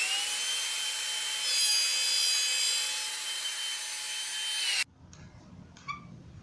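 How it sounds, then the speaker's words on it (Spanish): Router bit cutting a 13 mm groove in wood for a jewelry display stand, a loud steady high-pitched whine that suddenly stops, followed by quieter handling knocks and a spinning-down hum. "vas a pasar nuevamente tu fresa para obtener una ranura de 13 milímetros"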